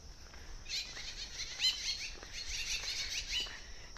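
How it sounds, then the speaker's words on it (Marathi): Birds chirping and singing outdoors on a wooded hill, a cluster of quick high twittering calls that overlap, fairly faint and distant over a soft background hiss. "निसर्गातले पक्ष्यांचे आवाज ऐकायला भेटतात"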